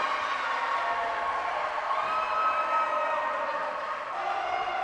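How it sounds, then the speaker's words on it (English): A crowd at a high school volleyball match between Woodstock Academy and Bacon Academy cheers and roars steadily in a gym, a sustained, fairly loud wash of voices with occasional whoops. "the crowd is up and loving it"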